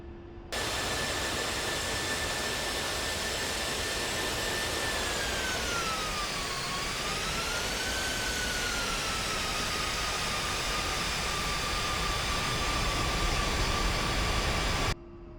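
Jet aircraft engine in the IRON FLAG flight game, a steady loud whine and roar while taxiing toward the runway, the pitch dipping and rising once midway, with no talk over it.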